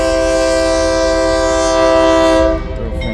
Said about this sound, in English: This is the end of our eastbound loaded auto-rag train.